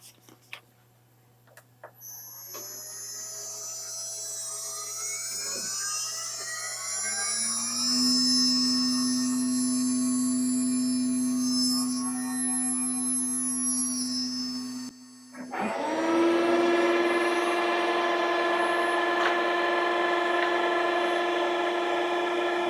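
A CNC machine surfaces a new spoil board, a steady motor whine with sustained high tonal lines that ramps up, pauses briefly, then resumes louder and continues evenly, with no talking.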